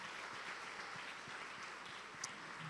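Applause from a church congregation, a quiet, steady patter of many hands clapping at a distance, continuous throughout without any voices.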